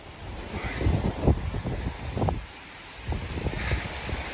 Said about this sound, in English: That's some powerful wind coming through there.